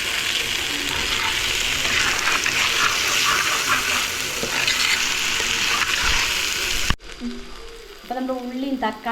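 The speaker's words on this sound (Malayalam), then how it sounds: "അതിലേക്ക് ഒരു രണ്ട് തക്കാളിപ്പഴവും കൂടെ ഇട്ട് കൊടുക്കുകയാണ് ഇത് വീണ്ടും ഒന്ന് നന്നായിട്ട് ഇളക്കി കൊടുക്കാം" Shallots and tomatoes sizzle loudly in a pan while being stirred for a Kerala-style chicken curry, then cut off into quieter sounds with brief voices over the last couple of seconds.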